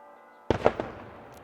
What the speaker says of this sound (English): It's like cannon shots.